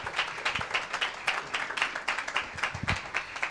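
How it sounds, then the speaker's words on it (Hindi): A church congregation claps in praise of God: loud, fairly even applause from a crowd indoors that runs without a break. "आइए एक जोरदार ताली देंगे परमेश्वर के नाम की महिमा के लिए"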